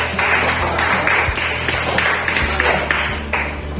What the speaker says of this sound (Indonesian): Sekali lagi kita tepuk tangan buat.